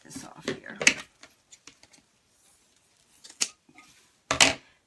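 Scissors snip through pipe cleaners on a ballerina wreath, a few sharp close cuts in short bursts with quiet gaps between, and a person speaks briefly near the start.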